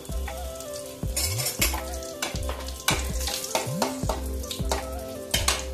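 Loud, crackly sizzling of dried chillies in hot oil, with repeated scrapes and clinks of a spoon stirring the pan throughout.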